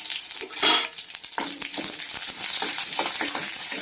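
Mustard seeds and chopped onion fry in hot oil in a pan, giving a close, bright, crackling sizzle with small pops, steady throughout and without talk.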